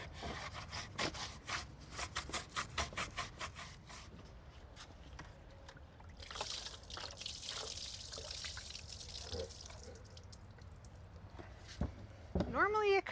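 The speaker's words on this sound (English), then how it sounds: "I'm gonna be scrubbing for a while here" A garden fountain gets scrubbed by hand: rapid rhythmic bristle strokes, fairly close, then a softer stretch of rubbing with faint water trickles, and a quick squirt or splash near the end.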